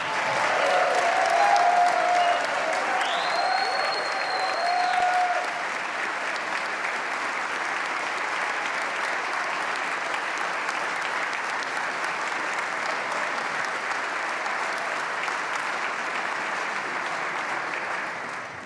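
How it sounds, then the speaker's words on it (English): An audience at the 2016 Wisconsin State of the State Address applauds steadily, loudest at the start before settling into a sustained, even clapping that carries on to the end. "let's give a round of applause not just to them, but to their teachers and their parents"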